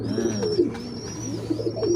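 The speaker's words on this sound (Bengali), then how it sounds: "দেখেন আমি কবুতরের বাচ্চা ধরেছি, কবুতরের বাচ্চা ছাড়বো না ওকে আমি" Pigeons coo steadily, close and fairly loud, with soft chirps in a continuous throaty murmur while a pigeon chick is held in the hand.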